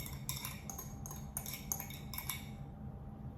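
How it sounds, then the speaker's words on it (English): Three eggs are dropped into a mixing bowl, heard as a quick series of light clinks and taps close by, followed by near silence. "I'm dropping my 3 eggs in"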